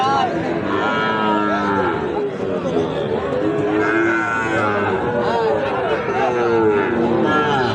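A Sahiwal bull calf moos repeatedly at the Ambari cattle market, loud and close, with other cattle and the chatter of a busy crowd all around.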